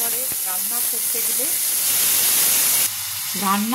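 Ginger tempering sizzles in hot oil in a pan for a jackfruit and chana dal dish, a steady loud hissing fry that swells midway and runs under intermittent talk throughout.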